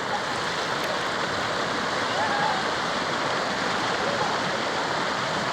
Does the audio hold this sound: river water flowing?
yes